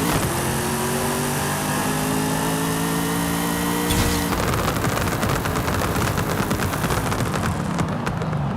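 A 2019 Corvette ZR1 with a 1300-horsepower V8 and anti-lag launches hard in a drag race in Forza Horizon 5, its engine screaming up through rising revs before a rapid crackling, popping roar as it pulls away, loud and unbroken.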